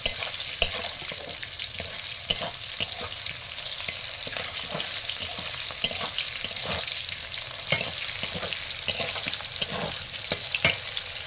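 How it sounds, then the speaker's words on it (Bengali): Bitter gourd browns in hot oil, a loud continuous frying hiss with intermittent stirring clatter and scraping from a spatula, steady throughout and without talk. "করলাটা একটু লাল করে একটু বাদামি রঙের ভেজে নেবেন, একদম কড়ানো, হালকা করে উচ্ছেটা ভেজে নেবেন"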